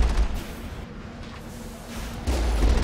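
Booming cannon fire from a Privateers ship battle in Ironlady Insanity, with a heavy low thump at the start and another rumbling blast near the end, separated by muffled noise.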